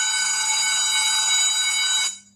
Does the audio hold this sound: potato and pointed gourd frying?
no